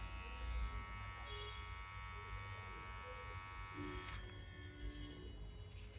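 A Philips MG7920 grooming trimmer with its default attachment runs with a steady, faint electric buzz and hum, close by and continuous, and its tone shifts slightly partway through.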